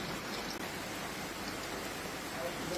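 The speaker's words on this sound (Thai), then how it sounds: "ฝนตกค่ะ ฝนตกได้ยินเสียงฝนไหมคะ ข้างบนเนาะหลังคา" Steady rain drumming on a house roof overhead, a dense, even hiss without breaks through the whole moment, fairly quiet and continuous with no distinct individual drops.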